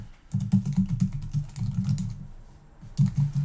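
Rapid keyboard typing on a computer while lettering is set in design software, a dense run of close, crisp keystrokes with a brief pause before a final burst.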